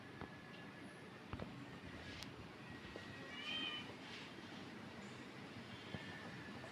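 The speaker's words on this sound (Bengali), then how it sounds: "এই যে আমার রেস্কিউ করা বিড়ালটা" A rescued cat, weak and covered in lice, lets out one soft meow midway through. It sits over a steady low background hum with a few scattered sharp clicks.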